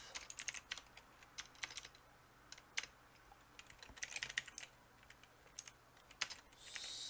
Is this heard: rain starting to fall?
no